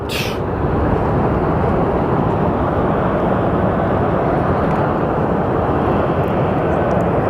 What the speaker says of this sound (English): we do have our A321 departing